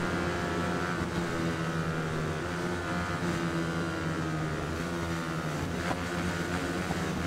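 A motorcycle engine revving steadily in a racing video game, a continuous droning roar with layered harmonic whine and no pauses, fairly close and even in loudness.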